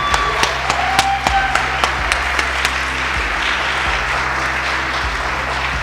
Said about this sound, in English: Let's give him a warm Jaguar round of applause